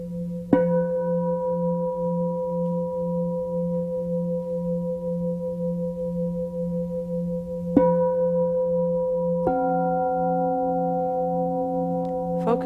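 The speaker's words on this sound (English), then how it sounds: "Allow the tones of the gongs to simply wash through you." Meditation gongs ring out in three separate strikes, each opening with a soft attack and leaving long, steady humming tones that overlap and sustain over a constant low drone, calm and unhurried.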